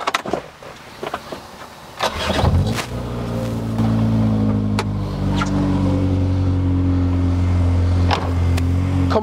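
Track car with big-bore exhausts and a roughly 130 bhp engine starting up: a few clicks and a cranking burst, then the engine catches and settles into a loud, steady idle with strong low harmonics and occasional sharp ticks.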